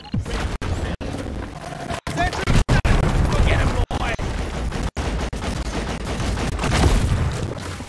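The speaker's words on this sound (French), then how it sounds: "ça fait bizarre d'avoir le fusil à pompe en auto" Rapid automatic shotgun blasts from Deep Rock Galactic, loud and repeated in quick bursts with booming impacts, mixed with game effects and players talking over the action.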